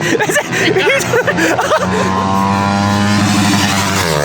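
Loud, close whine of DRZ motorcycle engines at full throttle as they race past, rising and holding a strong pitch, with talking and laughter heard over the start.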